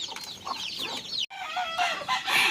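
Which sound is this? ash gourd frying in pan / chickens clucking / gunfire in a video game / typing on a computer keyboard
chickens clucking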